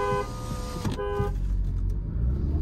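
At a drag race start between a Volkswagen Virtus GT and a Kia Seltos 1.5 CRDi, a car horn sounds a sustained toot and then cuts off, leaving a low engine rumble that swells steadily.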